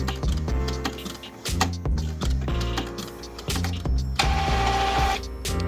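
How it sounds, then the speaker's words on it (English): A sublimation printer runs with A-Sub paper and ink, whirring steadily up close with rhythmic mechanical stepping and carriage tones throughout. "Let's go ahead and get a print done."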